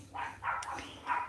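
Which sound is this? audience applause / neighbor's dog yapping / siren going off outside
neighbor's dog yapping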